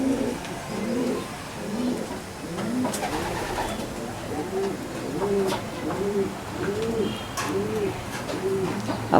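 A female racing pigeon coos steadily and close by, a run of about ten soft, rounded coos in an even rhythm with no gaps, over faint background noise.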